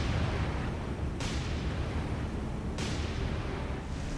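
Heavy, rumbling launch noise from a warship in the War on the Sea naval game, a continuous loud roar with two sharp bursts standing out, no voices.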